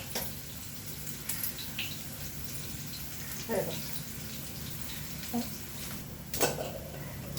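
Sprouted moth beans with curry leaves sizzle softly in a pan, a steady low hiss broken by a few brief stirring scrapes and clinks.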